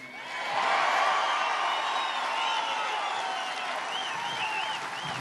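A large outdoor crowd at the base of Mount Rushmore in South Dakota cheers and applauds steadily, with whoops and whistles rising over a broad, distant roar.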